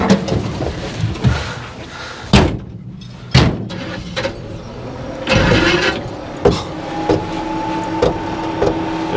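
A 1956 Chevy truck engine fitted with a Predator carburetor runs at a steady idle, close by, broken by several sharp knocks and clunks around the vehicle.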